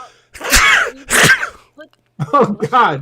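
A single sharp sneeze bursts out, followed by a second explosive burst, then a person speaks briefly in an indoor room.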